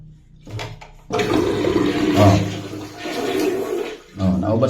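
A toilet flushes with a sudden loud rush of water after a quiet start, then the tank keeps filling with a steady gurgling hiss that briefly drops away before surging again near the end.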